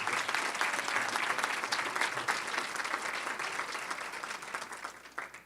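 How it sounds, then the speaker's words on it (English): Audience at an Educator of the Year award ceremony gives a sustained round of applause, dense and even from many people, fairly soft in level and tapering slightly toward the end. "how about one more round of applause before we make the big announcement?"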